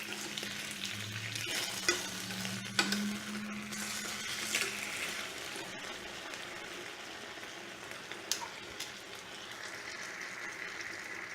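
Pork chops sizzle steadily in a hot pan after being flipped, a bright continuous frying hiss with occasional small pops and clinks, close and alone without talk.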